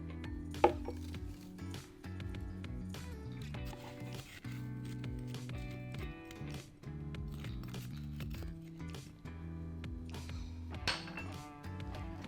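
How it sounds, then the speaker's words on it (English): Clinks and light clatters of ingredients such as sugar dropped into a blender, with scattered taps and knocks over a faint background of soft music. "start off by adding in all of our ingredients right into our blender"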